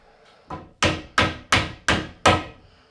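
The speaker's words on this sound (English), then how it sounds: "Might even need a hammer at the end." Five sharp hammer taps in a steady rhythm, driving an insert into a T-slot piece in a camper interior build, each a crisp metallic knock ringing briefly, close by with no talking.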